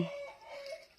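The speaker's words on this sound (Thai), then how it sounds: "เสียงไก่ขันแล้ว" A faint, distant rooster crow, brief and partly cut off, heard alone in a quiet setting.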